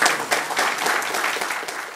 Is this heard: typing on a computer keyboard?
no